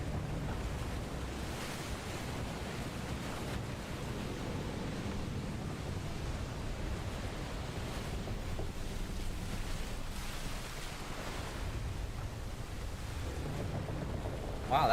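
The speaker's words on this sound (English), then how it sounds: "the waves parted and then the ship just plummeted to the bottom of the sea and then it collapsed in" Deep, steady roar of parted sea waves and rushing water as a ship plunges toward the seabed in Final Fantasy XVI, a continuous dense wash with wind-like noise and no clear speech.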